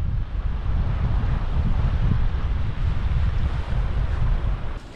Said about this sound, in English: It's got a bit windy overnight and it's quite chilly as a result.